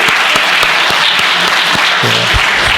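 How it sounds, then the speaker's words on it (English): Applause from the audience at an African business roundtable in Philadelphia, steady loud clapping with a few sharper individual claps standing out, continuing without talk. "Please give him a big hand"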